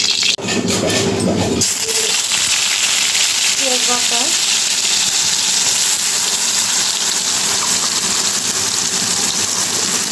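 Oil heating in a pan before singhi fish goes in, giving a loud, dense, continuous sizzling hiss that fills the whole stretch after a brief burst of rushing noise at the start.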